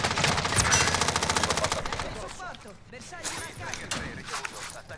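Video game gunfire: a rapid automatic burst of shots up front, then scattered single shots and bangs, heard under excited voices of players talking.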